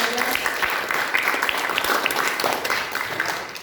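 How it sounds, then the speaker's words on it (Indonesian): Children at a school gathering receive a round of applause, a moderate, continuous patter of many hands clapping, heard up close and evenly. "Tepuk tangan buat anak-anak hebat semuanya."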